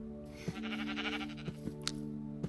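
Sheep bleat in a video game, several short bleats scattered over a steady background drone, fairly quiet and with no talking.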